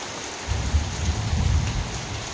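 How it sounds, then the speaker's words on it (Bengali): Heavy rain pouring down with a deep rumble of thunder swelling through the middle, loud and close, with no voices. "মেঘ ডাকছে কীরকম শুনতে পাচ্ছেন"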